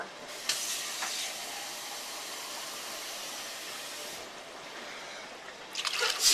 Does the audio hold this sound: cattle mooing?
no